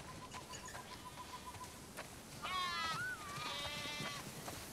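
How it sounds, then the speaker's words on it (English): Several sheep bleating one after another in The Last of Us Part II, wavering cries rising over a soft background hum, moderately loud and close. "Wow, that's a lot of sheep."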